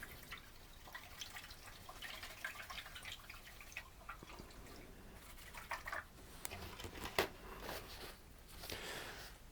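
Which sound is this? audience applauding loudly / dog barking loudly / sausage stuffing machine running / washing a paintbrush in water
washing a paintbrush in water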